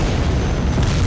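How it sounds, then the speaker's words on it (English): A loud, dense burst of gunfire and explosions hits an A-10 aircraft in a flight video game, a brief booming rumble that fills the whole clip with no pauses. "I'm being shot at right now"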